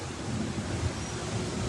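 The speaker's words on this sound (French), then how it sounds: "on se protège un peu des vagues." A steady rush of sea waves and wind surrounds a sailing boat at sea at sunrise after a rough night, a constant low roar with heavy wind buffeting the microphone and no distinct breaks.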